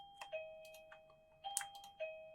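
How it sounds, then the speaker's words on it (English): Doorbell ringing indoors, a few soft electronic chime tones sustained over a couple of seconds with light clicks and knocks around them, fairly quiet and distant. "Okay, doorbell went there."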